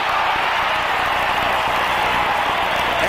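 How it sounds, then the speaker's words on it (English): Partisan Dallas Cowboys home crowd at a 1980 NFL football game against the St. Louis Cardinals, a dense, loud, sustained roar of cheering and applause filling the stadium without pause. "Partisan Cowboy crowd."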